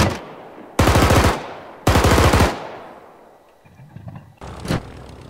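Aircraft machine gun on a WWII plane in the IFA3 mod for Arma 3, firing two loud, rapid rattling bursts close together, then a quieter stretch and one shorter burst at the end.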